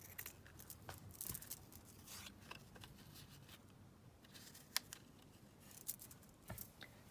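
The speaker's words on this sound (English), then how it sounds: "So I'll just cut this lace down to sort of similar size to this." Scissors snip through black lace in quiet, irregular cuts, giving soft crisp clicks with brief rustling between them, close by and alone.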